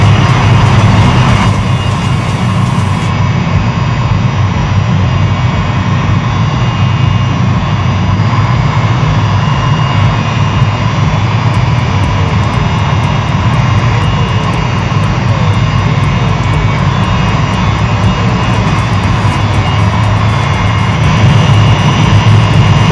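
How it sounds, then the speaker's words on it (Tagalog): Primary and secondary pumps run during maintenance work, filling the space with a loud, constant industrial roar and hum that stays steady throughout with no break. "Ito yung secondary at primary pump."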